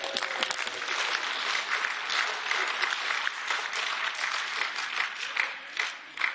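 MEPs in the European Parliament chamber applaud and cheer, a steady, dense wash of clapping from a large crowd that continues throughout, with faint voices mixed in.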